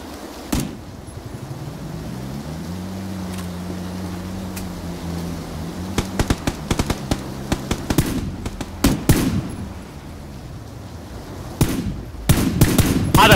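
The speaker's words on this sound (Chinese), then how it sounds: "你乱开枪！" Gunfire in a battle royale video game: after a steady vehicle engine drone, rapid bursts of sharp shots crackle in clusters, then another flurry near the end.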